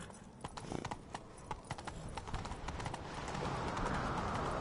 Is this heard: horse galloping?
yes